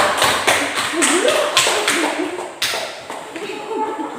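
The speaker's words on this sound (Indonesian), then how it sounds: "Oke, beri aplaus untuk kita semua." A class of students applauds in a classroom, quick clustered claps that come in uneven bursts while a voice speaks over them.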